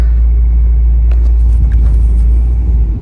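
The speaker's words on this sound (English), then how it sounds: "let's test drive it. See how this car performs in the snow." An Acura Integra turbo drives through snow, heard from inside as a loud, steady low rumble of engine and road noise with faint rattles, continuous throughout.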